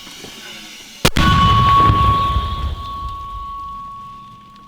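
A powerful artillery gun fires once, a sudden loud blast that rolls into a long, fading rumble like distant thunder.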